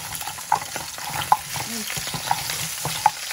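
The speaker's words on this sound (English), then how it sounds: "I'm gonna fry it" Potstickers frying in hot oil in a pan that was once non-stick, heard as a steady background sizzle with a few sharp stirring clinks spread through the clip.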